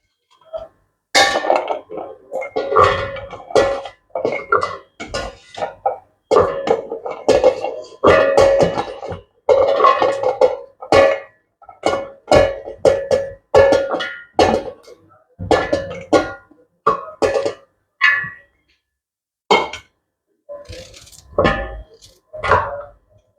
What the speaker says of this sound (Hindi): अदरक, लहसुन, हरी मिर्चें और प्याज ये सब एक साथ चॉप करेंगे।